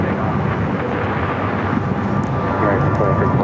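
An airliner rolls for takeoff on runway 7 left at Phoenix Sky Harbor airport, a steady, loud, broadband engine roar with no breaks, building slightly toward the end.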